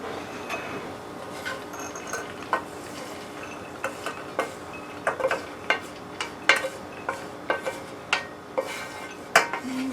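Repeated light clinks and scrapes of a utensil against a dish as toasted pine nuts are put in, irregular and fairly close, over a low background hiss.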